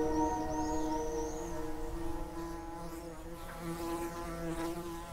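Honeybees buzz in a garden, a steady layered drone of several insects hovering close by, holding at an even level throughout with no talk.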